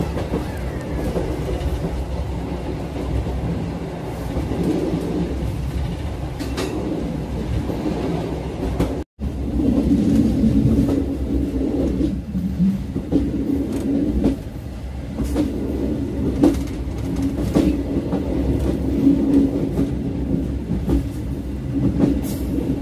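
The KA Siliwangi passenger train runs on rails, a steady loud rumble with faint clickety-clack and a brief dropout near the middle, continuing without any voices.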